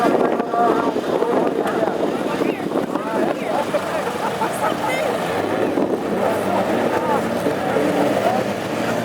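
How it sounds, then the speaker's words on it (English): Classic hot rod race cars roll off for the start of the Irish Grand Prix final at Tipperary, a dense, continuous roar of engines and wind that stays loud throughout, with voices mixed in. "And away we go, the rolling lap start for the final."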